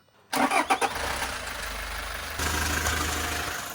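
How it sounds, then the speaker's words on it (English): A van's diesel engine cranks with a few quick starter pulses, catches and settles into a steady, close idle that steps up slightly in level partway through; no talk over it. "Miles going to start it and we're going to see if it leaks."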